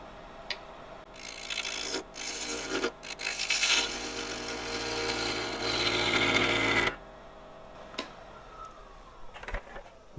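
A wood lathe cuts a maple blank round for a small herb stripper pot, giving a close rasping, rubbing whir from the tool against the spinning wood for about seven seconds before cutting off, leaving quiet handling noises.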